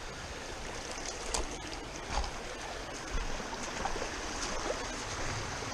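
Flowing water from a stream at Murphy Run, a continuous broadband rush and gurgle with a few small splashes, close and steady, with no talking.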